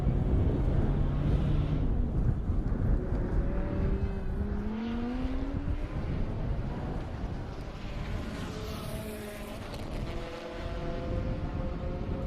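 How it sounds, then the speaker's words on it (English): A race car laps the Circuit of the Americas track during a super lap battle, its engine drone rising and falling in sweeping pitch as it passes at a distance over steady, continuous track noise. "We'll let you listen to that car around track."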